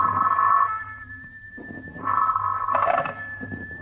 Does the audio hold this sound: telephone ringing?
yes